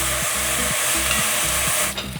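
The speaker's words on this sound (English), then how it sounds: "And saute this. I'm gonna cook this for a couple minutes just to soften the veggies a little." Vegetables sauté in a pot for corn chowder, a steady close sizzle broken by rhythmic scraping stirs every half second or so, fading slightly at the end.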